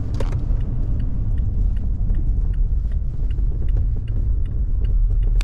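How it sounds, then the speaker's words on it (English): A car on a mountain road in the White Mountains in winter, heard as a steady low road rumble with tire noise that holds evenly throughout and carries no speech. "Oh, there's a car behind me."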